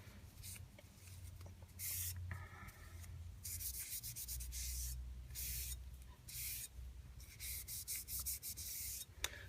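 A solvent-soaked rag rubs along a knife blade to clear tape residue during sheath making, making repeated close, dry wiping strokes in short bursts with brief pauses between them.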